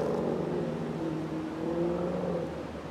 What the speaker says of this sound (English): I'm hearing echoes of engines coming through there.